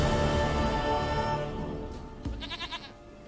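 A goat in The Witcher 3 gives a few short, wavering bleats near the end, following a louder ambient bed that fades away.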